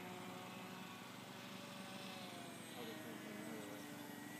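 A Parkzone T-28 Trojan RC parkflyer plane's electric motor whines steadily overhead during its landing approach at sunset, a continuous buzzing drone with faint voices in the background.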